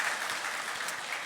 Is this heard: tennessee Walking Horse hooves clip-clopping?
no